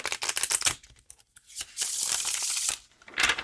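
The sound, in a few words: riffle shuffling oracle cards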